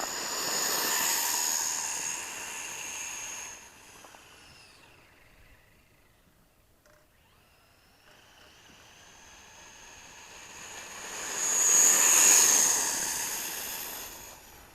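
A Traxxas Stampede 2WD RC truck, modified into a Frankenpede build, races past at full throttle with a high-pitched motor whine that swells close, fades to near silence, then returns loud.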